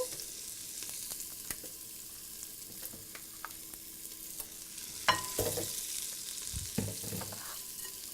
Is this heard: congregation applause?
no